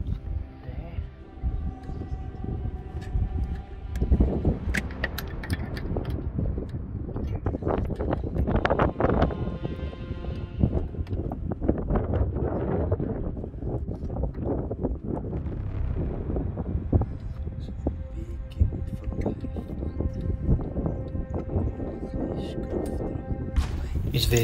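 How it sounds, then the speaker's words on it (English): Strong night wind on a South African farm buffets the microphone in heavy, continuous gusts, a loud low rumble that rises and falls without pause. "It's very, very windy tonight."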